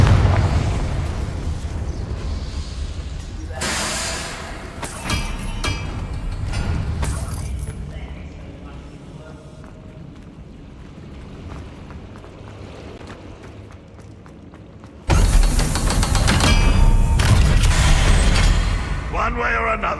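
Confringo blasting spells going off in Hogwarts Legacy, several loud explosive bursts and booms scattered through the stretch, with a big blast near the end, amid game sound and speech.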